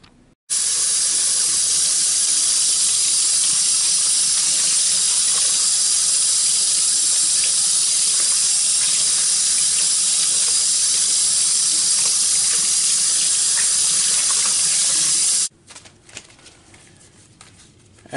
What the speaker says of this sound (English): Now I can take it out and I can rinse it in warm water in the sink.